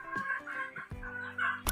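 Pet chickens, roosters and hens, cluck and call close by while being fed, with several short overlapping clucks and a brief crow-like cry in quick succession.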